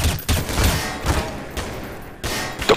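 Rapid gunfire in Counter-Strike: Source, several sharp bursts and single shots close together at steady loudness with no talk over them.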